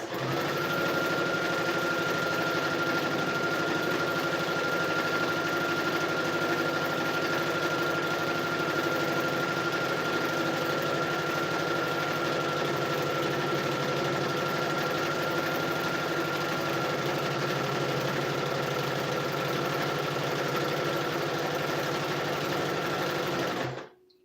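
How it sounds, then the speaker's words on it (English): A sewing machine running continuously as it stitches a straight seam to form gathers, a steady close-up mechanical hum and whir that holds for over twenty seconds before cutting off. "Then you just sew straight, and make sure the thread you have in the machine will be enough."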